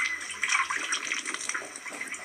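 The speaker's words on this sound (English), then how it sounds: "And you're washing your hands in the water?" Hands are washed in water, a continuous splashing and trickling with small irregular surges, moderately close.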